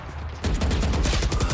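Rapid automatic gunfire from the video game Valorant, a loud sustained burst of closely spaced shots starting abruptly after a brief quieter moment.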